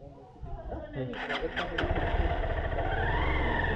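A motorcycle engine starts up and settles into a steady, close rumble, with people talking over it.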